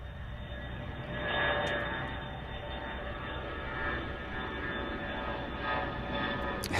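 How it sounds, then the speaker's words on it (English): A small CRJ 200 regional jet passes at Chicago O'Hare, its steady engine whine and rumble rising slightly and holding at moderate distance, with no voices. "Here comes a little CRJ 200."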